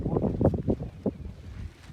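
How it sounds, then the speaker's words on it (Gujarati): Strong wind buffets a rooftop during Uttarayan kite flying, rumbling in low, uneven gusts close to the microphone. Muffled voices are mixed in. "આ પવન બહુ છે"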